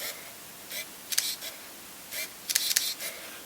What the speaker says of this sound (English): Let's get the G2 on its highest shutter speed